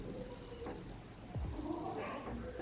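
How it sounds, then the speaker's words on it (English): Indoor house cat meowing in a few short, faint cries, heard in the background of a quiet room. "I don't know if you could hear the cat."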